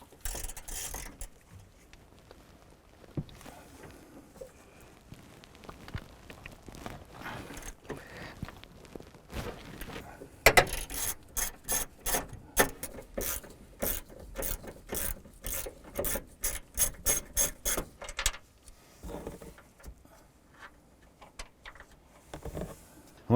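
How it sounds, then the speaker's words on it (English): A ratchet turns a 14mm socket on an extension, loosening strut mount nuts on a 2008-2012 Honda Accord; bursts of quick, close metallic clicks come in the middle stretch, with quieter shuffling and handling noise before and after. "Using a 14mm socket and extension, and go ahead and loosen and remove these nuts."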